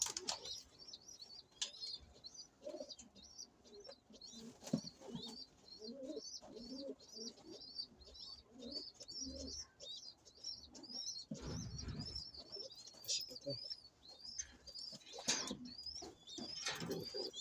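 Pigeons in a fancier's loft coo repeatedly in low, throaty rolls while wings flap in short bursts, with occasional chirps and rustling throughout, fairly close and steady.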